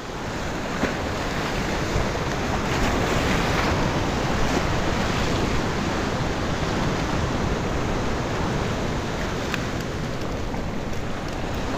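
Cold December surf rolls against a jetty in a constant, loud wash of breaking waves and wind noise, with no talking.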